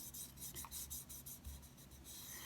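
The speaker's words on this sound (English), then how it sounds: "Find any extra spots that might need sanding." Sandpaper rubs over a white glitter tumbler coated in Mod Podge and epoxy, making close, rhythmic back-and-forth rasping strokes that repeat steadily without speech.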